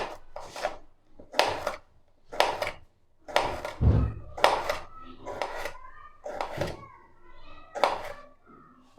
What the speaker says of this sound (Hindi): सलाद आपने इस तरह बड़े बड़े पीसेस में काटनी है।